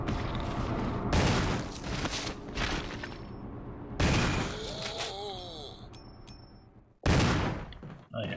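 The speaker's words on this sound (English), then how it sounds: "Once I see him, I fire." Gunfire in Resident Evil HD Remaster: loud bursts of shots with booming tails at about one, four and seven seconds, separated by quieter game ambience and a brief rising tonal chirp.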